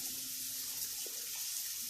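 Water running steadily through an electric water heater that gets power but will not heat, with a faulty B500k variable resistor. The flow is a constant, moderate rushing hiss with no voices.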